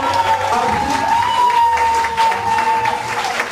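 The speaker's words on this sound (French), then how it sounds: "Présentez l'assistance, les applaudissements." Guests at a civil wedding ceremony in Gabon applaud together, a continuous crowd clapping with a held melodic tone running through it, moderately loud and close throughout.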